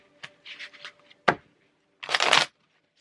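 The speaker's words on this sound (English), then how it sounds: "Let me get the cards first" Tarot cards shuffled by hand in a few short bursts: quick riffles and a sharp snap, then a longer, louder riffle, close and with no talk over it.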